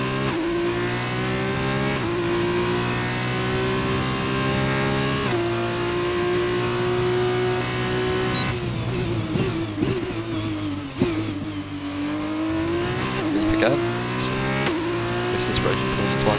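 A race car engine in rFactor 2 at the Austrian GP, loud sustained high revs with gear shifts and braking dips mid-lap, under a commentator's voice.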